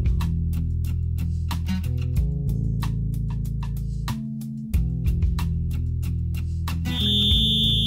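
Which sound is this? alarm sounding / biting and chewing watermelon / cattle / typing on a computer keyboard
alarm sounding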